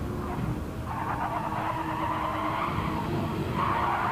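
A Porsche Cup race car in a racing video game, on the Atlanta circuit, slides loose off the track, its tires squealing in a long continuous skid over the steady drone of the engine.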